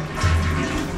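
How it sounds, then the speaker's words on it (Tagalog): A toilet flushing in a bathroom under renovation, water rushing in a short, moderately loud surge heard close by with no talking. "Ayan, may flush naman yung toilet din."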